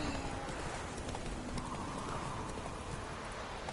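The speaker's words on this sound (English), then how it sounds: "Whoa there, Roach." Horse hooves clop steadily in a video game, with a brief whinny, heard faintly under a quiet background.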